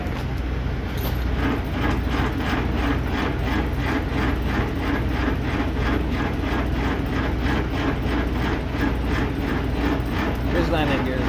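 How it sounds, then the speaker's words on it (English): Stiff landing gear on a loaded semi-trailer being hand-cranked, a steady rapid ratcheting clatter repeating evenly throughout, close up with low engine rumble underneath. "This landing gear is a little stiff."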